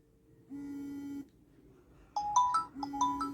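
An M9 Edge / T800 Pro Max smartwatch plays its incoming-call ringtone, a short sustained tone followed by a quick, repeating pattern of bright electronic beeps, clear and close in a quiet room.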